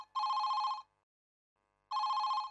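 An old-style telephone bell rings in two bursts, each about two-thirds of a second long and separated by a second of silence, sounding clear and moderately quiet.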